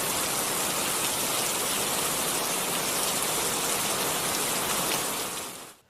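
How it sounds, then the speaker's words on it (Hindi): Heavy rain pours in a dense, steady hiss, loud and close without a break, then fades out at the end. "बारिश बहुत तेज हो रही थी।"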